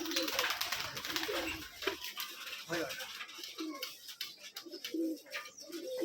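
Pigeons coo and flutter in a busy chorus at a pigeon loft in Rajshahi, with overlapping calls and a steady murmur of activity close by.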